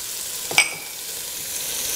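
Bite-sized butternut squash pieces sizzle in butter in a pan, a steady soft hiss broken by one brief clatter as they go in, with no talking.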